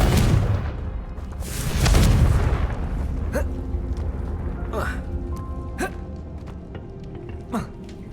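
A Confringo blasting spell explodes in a Harry Potter video game as a deep, rumbling boom, followed by a few sharper, fainter magical cracks and pops over low background noise.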